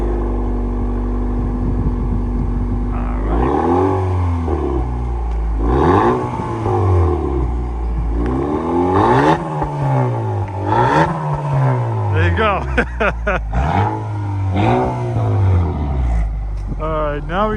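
A Honda Accord 2.0T with a Borla cat-back exhaust idles, then revs repeatedly in several rising-and-falling bursts, loud and close, with some talk over the engine.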